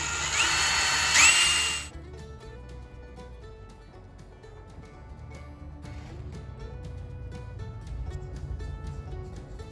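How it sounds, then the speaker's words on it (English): A loud, high-pitched power drill whines steadily for about two seconds boring holes in a palm-frond fishing lure, then stops, leaving quiet workshop clatter and faint tapping. "Let's drill some holes."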